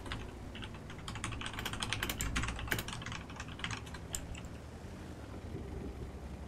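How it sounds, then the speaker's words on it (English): Steady, fast keyboard typing clatters on a computer keyboard during a tank game session, dense overlapping key clicks running the whole length at moderate level over a low background hum, no talk. "All we hear is the clickety-clacky of Domo typing"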